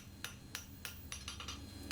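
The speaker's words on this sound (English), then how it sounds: "keep hammering it and make it taper" Hammer blows on a metal strap hinge being forged and tapered, a quiet run of about seven sharp taps at irregular spacing, with faint rubbing and background hum between strikes.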